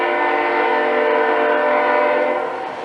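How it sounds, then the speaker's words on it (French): A train unseen in Bellingham sounds a loud, sustained multi-tone horn blast that holds for nearly three seconds before starting to fade. "J'essaie de déduire d'où est le train. Je l'entends, mais je ne peux pas le voir."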